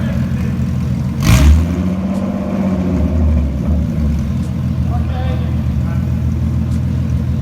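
A Nissan 370Z NISMO engine idles with no exhaust fitted, then revs hard once with a raw, unmuffled roar that rises and falls, while faint voices murmur in the background.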